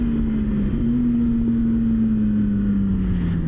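A Yamaha R1 sport motorcycle engine drones steadily and loudly throughout, its pitch sliding slightly lower toward the end, with no voices over it.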